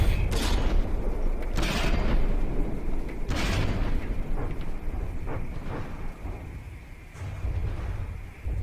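Guns and missiles firing in the naval combat game From the Depths: heavy booming shots and blasts at irregular intervals over a dense, continuous rumble of battle noise.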